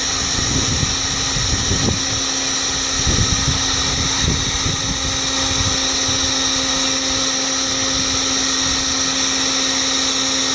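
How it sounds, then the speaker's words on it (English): A heat gun blasts charcoal in a Weber Smokey Joe grill with a loud, steady, whining roar and an airy rush that hardly changes throughout, broken only by faint clunks early on. "this is how I get my coals started. I just use a heat gun."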